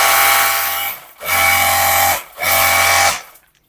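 An electric pressure washer sprays water in three loud bursts of steady hissing spray with a low motor hum, each about a second long and separated by short pauses, fading out at the end.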